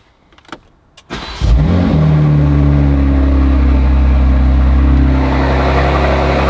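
A BMW G87 M2 with a turbocharged engine and Eventuri intakes fires up for the first time: a few faint clicks, then a sharp crank and catch into a loud, steady, droning idle close to the microphone.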